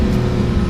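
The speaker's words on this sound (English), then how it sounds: "We just seamlessly burst into life with that engine." A Porsche 918 Spyder engine bursting into life, a brief loud close-up roar with a deep rumbling low end.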